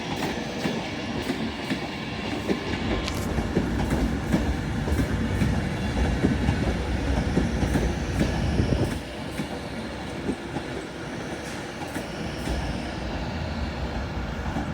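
Class 390 electric train at Carlisle station on the West Coast Main Line, a continuous rumble of a passing train with rhythmic wheel clicks, then a sudden drop to a quieter steady running sound.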